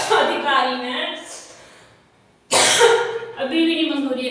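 Someone coughs repeatedly in harsh voiced bursts, a run of coughs, then a short quiet gap, then another loud burst of coughing close to the microphone.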